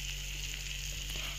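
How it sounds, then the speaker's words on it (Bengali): Ground chili, ginger, cumin and garlic pastes frying in a pan for a rohu fish-head curry, producing a quiet, continuous sizzle over a steady low hum. "এবার আমি আস্তে আস্তে বাটা মশলাগুলো দিয়ে দেবো"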